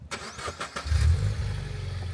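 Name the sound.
car engine starting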